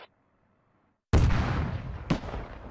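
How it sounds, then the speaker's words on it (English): A Humvee strikes an anti-tank mine in the military shooter Squad: after a brief silence, a sudden loud, booming blast erupts and rumbles, followed a second later by a sharp secondary crack. "that Humvee just ran into an anti-tank mine, and it's down"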